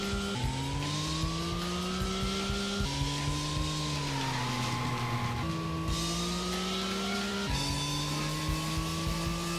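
A car drifting in the PS1 racing game Racing Lagoon, its engine holding a steady rising drone through several gear shifts while tires squeal through the corners, with no voices.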